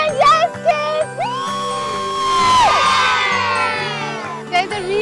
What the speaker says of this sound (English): There's a relay race going on behind me and the crowd is cheering.